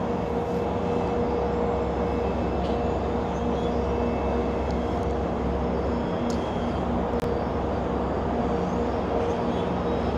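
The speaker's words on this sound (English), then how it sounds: "another outbound GO train there" An outbound GO Transit commuter train passes steadily at a distance on a sunny day, a continuous broad rumble and rail roar blended with city traffic, with no talk over it.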